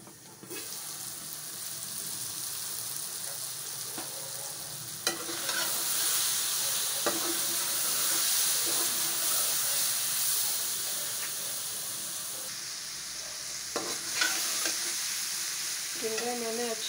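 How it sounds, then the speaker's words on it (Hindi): Tinda, round gourd, in a masala sizzles in a pan with a constant hissing fry that swells midway, punctuated by intermittent scraping strokes of a spoon stirring the vegetables; no talking. "टिंडे मैंने अच्छी तरह भून लिए हैं।"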